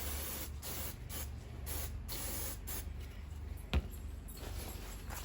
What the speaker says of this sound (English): I just take a little bit of this Naked Gun spray cleaner, hit the whole gun